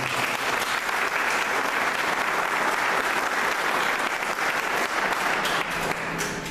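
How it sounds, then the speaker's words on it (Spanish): Sustained, dense applause from a church congregation during a Spanish-language service, loud and steady throughout with a slight dip near the end. "Démosle un aplauso al Señor."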